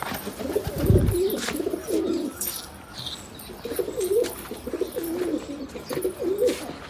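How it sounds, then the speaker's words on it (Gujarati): Pigeons freed from their wooden boxes coo in repeated low, throaty phrases close by, rising and falling in short bursts with a brief wing flutter near the start and faint outdoor background. "આ બધા કબૂતરો બહાર આવી ગયા છે અને પેલું એક કબૂતર ઉપર બેઠું છે"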